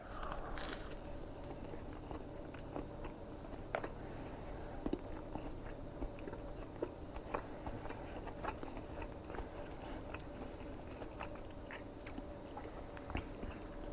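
Repeated crunchy bites and close chewing of a crispy savory chaffle filled with kielbasa and cream cheese, soft and intimate, steady mouth sounds with small crackles and no talk.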